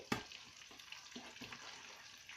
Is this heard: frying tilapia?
yes